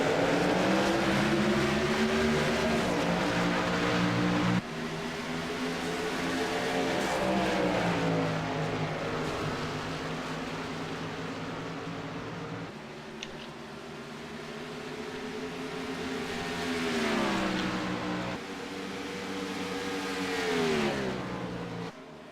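Race cars roar as they accelerate together at a green-flag restart, a dense wall of engine noise with rising and falling pitch as the pack pulls away, loud and continuous throughout.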